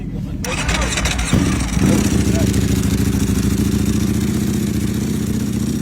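A BMW motorcycle fitted with an Akrapovic exhaust starts up and settles into a loud, close, rapid idle clatter, with a short blip of revs near the start and a voice talking over the engine.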